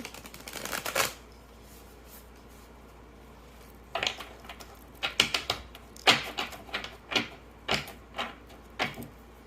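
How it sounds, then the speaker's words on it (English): Small tarot cards shuffled by hand, a short riffle burst at the start, a pause, then a run of quick crisp shuffling bursts in an uneven rhythm, close and clear with no talking. "the cards themselves are small enough that I can maneuver my hands around them to shuffle"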